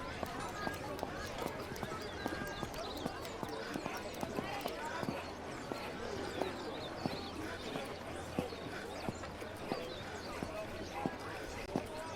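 Horse hooves in a video game, a quick run of regular clip-clop hoofbeats repeating through a steady background of game sound, with a voice talking over them.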